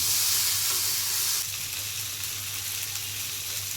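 Potatoes and Malabar spinach stalks fried with ground cumin and spices in a pan, a dense steady sizzle with stirring scrapes, louder at first then settling to a softer continuous crackle.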